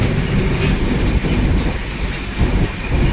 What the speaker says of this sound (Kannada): ಆ ಕಡೆ ಗೂಡ್ಸ್ ಟ್ರೈನ್ ನೋಡ್ಬೋದು.